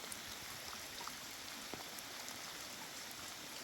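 Steady rain falling in a snowy mountain setting, a continuous broadband hiss of drops at even, moderate level with no talk and only a few faint isolated taps.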